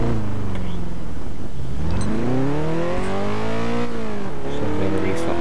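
A Ferrari F40 engine in the video game Test Drive Unlimited 2 revs and climbs in pitch, with a smooth rising harmonic whine and a brief dip before accelerating again, loud and steady throughout.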